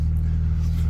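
A Volkswagen Golf engine idling steadily by itself after being started, a continuous low, even rumble with a slight regular pulse, close and fairly loud, with no voices.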